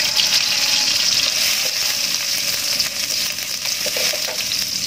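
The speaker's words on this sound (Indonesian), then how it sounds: "Ini sepertinya minyaknya sudah panas, langsung saya masukkan saja." Garlic and then onion dropped into hot oil in a pan, a loud continuous sizzle and hiss that stays steady and close throughout.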